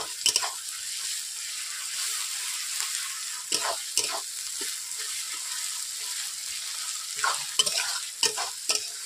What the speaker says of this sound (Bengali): বন্ধুরা দেখতেই পাচ্ছেন আদা রসুন পেঁয়াজগুলোকে আমি ভেজে নিয়েছি